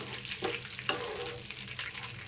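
Tempering seeds splutter in hot oil in a pan while tamarind pickle is prepared, making a steady, close sizzle dotted with small pops and crackles that continue throughout.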